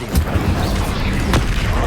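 Incendio fire spell cast in Hogwarts Legacy, heard as a loud low rumbling boom with two sharp bursts over a continuous roar of game noise.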